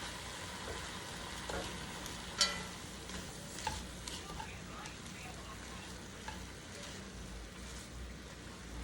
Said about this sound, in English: Now I'm going to go ahead and give everything a good toss here, just get it all mixed around.